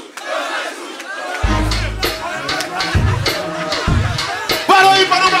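A large crowd at a Rio de Janeiro rap battle roars, shouting and cheering in loud overlapping waves, with bursts of voices rising and falling throughout.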